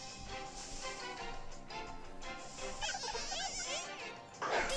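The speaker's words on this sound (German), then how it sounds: "Die kleine Biene kriegen wir aber schon gekillt." A bee Pokémon buzzes in the video game Pokémon Y, a thin insect-like whine layered over the game's background music, fairly quiet.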